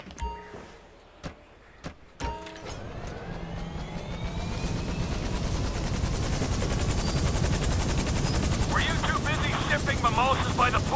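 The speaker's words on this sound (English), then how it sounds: "This is our chopper, I guess." A helicopter in the video game GTA V starts up: a few sharp clunks and thumps, then a rising, steady rotor and engine roar that stays loud and close to the end.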